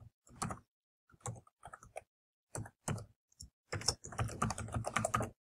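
Keyboard typing in irregular bursts of clicks, with pauses between short runs and a denser stretch of keystrokes near the end, as a name and email are entered into a Blogger contact form.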